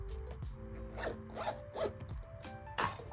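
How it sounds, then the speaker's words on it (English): A zipper on a pouch is pulled in a few short, raspy strokes, close by and fairly quiet, with no talking. "I'm gonna zip that so it doesn't go everywhere."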